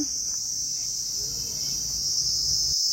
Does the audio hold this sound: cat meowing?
no